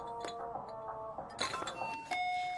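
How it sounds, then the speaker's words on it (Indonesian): A doorbell at a house is pressed repeatedly, its ding-dong chimes ringing several times in a row at moderate loudness with faint room noise between the tones. "Berkali-kali Okju memencet bel, tapi tak ada jawaban dari Minhe"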